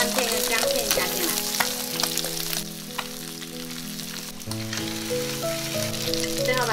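Garlic and ginger slices frying in a pan with sea bass, making a loud, steady close sizzle with some stirring that runs throughout under a tonal background.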